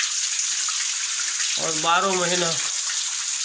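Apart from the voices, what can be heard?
cool river water flowing from mountain pool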